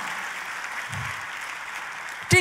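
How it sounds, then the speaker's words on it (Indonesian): An audience at a church sermon applauds in a steady, moderately distant wash, ending with a sudden louder knock or thump. "tepuk tangannya boleh yang paling meriah buat Raja di atas segala Raja"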